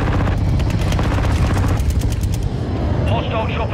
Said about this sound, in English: Hostile chopper gunner incoming.